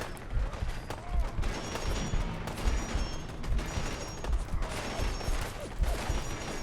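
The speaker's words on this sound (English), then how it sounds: "that's a lot of bullets flying his way" Heavy gunfire in the video game Fallout 4, rapid overlapping shots and bullets flying in an irregular, continuous firefight at moderate loudness.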